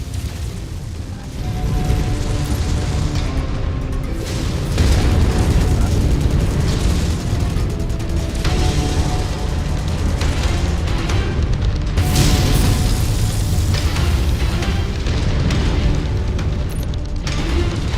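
Constant loud, booming explosions and crashing mechanical clangs from MechWarrior 5 Mercenaries as battle mechs fight and an enemy mech is destroyed, a dense roar that never lets up.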